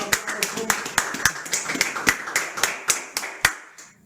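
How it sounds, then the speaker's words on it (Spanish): A small production team claps in a studio podcast setting, giving sharp, distinct handclaps at a steady moderate rhythm for about four seconds, close and fairly loud, with no voices over them. "Yo creo que el equipo de producción le da un fuerte aplauso."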